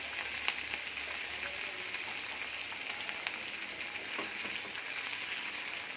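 Finely chopped fenugreek leaves, about a hundred grams, frying in hot oil for homemade khakhra, giving a steady close hiss and crackle of sizzling that holds evenly without pause.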